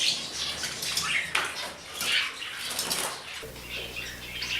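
Ornamental pet birds flutter and flap their wings in a cage, quick soft bursts of wingbeats repeating close by, with faint chirps mixed in and a low hum underneath in the final second.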